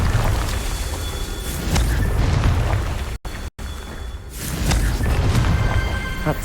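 Booming blasts from the Confringo fire spell in Hogwarts Legacy, heavy low-end explosions swelling and rolling with crackling debris, two brief dropouts in the middle before another burst rumbles on.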